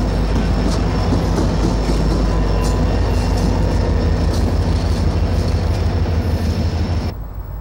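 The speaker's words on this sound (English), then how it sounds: "Emerging from Rockport, a train of dry rock empties is bound for one of the big diammonium phosphate plants in the Bone Valley." A CSX freight train of empty dry rock hoppers rolls past in Florida's Bone Valley phosphate country in 1995. The loud, close, continuous rumble of wheels and cars is steady throughout, then drops away sharply near the end.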